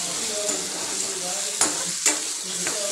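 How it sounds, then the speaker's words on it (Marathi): Onion and tomato fry in oil in a pan with a continuous hiss, and a spatula stirs the mixture, giving two distinct scraping knocks partway through. "चांगलं मिक्स करून घेऊ"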